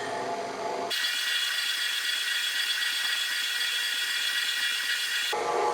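An electric mixer on low speed stirs matcha shortbread dough with a steady, whirring drone that runs uninterrupted for about four and a half seconds between quieter moments at the start and end.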